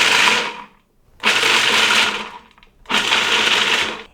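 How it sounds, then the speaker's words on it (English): A food processor pulses to grind nuts in three loud bursts of whirring blade noise, each about a second long, separated by short silent gaps. "We're going to take the pulse button and turn it on, then off, then on, then off, until we reach the desired grind consistency."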